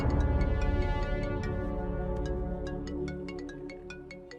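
A phone ringtone plays as a series of bright, regularly repeating electronic chime tones over a sustained musical backing, fairly close and steady throughout.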